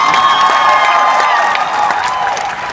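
An award-function audience at a comedy show claps and cheers loudly and continuously, with whoops and shrill whistles riding over the dense applause.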